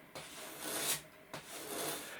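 Sandpaper rasps on the wooden tailplane of a 1941 Vintage Gladiator model aircraft with a 68-inch wingspan, two long back-and-forth strokes close up indoors with no talking.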